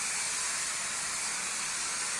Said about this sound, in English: we're trying to experiment just to see if steam alone is going to get this stuff loose